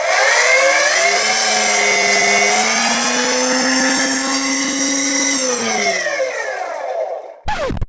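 A homemade Foredom-style flexible shaft rotary tool, built by coupling a flexible shaft to a motor shaft, whines loudly at a steady high pitch, then slows and winds down before a brief clunk at the end.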